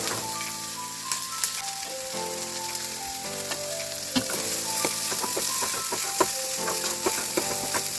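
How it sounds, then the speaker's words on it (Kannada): Coriander seeds and green chillies fry in hot oil for a cauliflower gravy, a steady crackling sizzle with light stirring scrapes, close and continuous, with no talk. "ಧನಿಯಾ ಮೆಣಸಿನ್ಕಾಯಿನೆಲ್ಲ ಹಾಕೊಂಡು ಫ್ರೈ ಮಾಡಿ"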